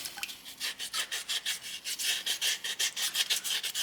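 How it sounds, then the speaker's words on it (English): Folded sandpaper rubbing back and forth over a soapstone owl carving to remove tooling marks, a steady close rasping scrape in quick regular strokes with no talking. "I'm going to make sure I'm actually sanding it and getting rid of those tooling marks."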